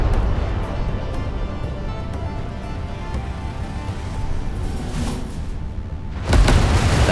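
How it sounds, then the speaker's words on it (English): Spaceships explode in a video game, deep, continuous rumbling booms rolling on, capped by a sudden louder blast right at the end. "the most involved blowing up of a ship I've ever seen"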